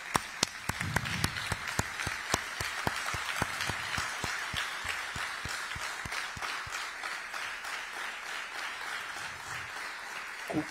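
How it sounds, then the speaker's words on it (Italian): Scattered clapping fills a press conference room in Dimaro as the group applauds a journalist, with a few sharp, distinct claps standing out over a steady murmur of applause that runs throughout. "volevamo dedicargli un applauso"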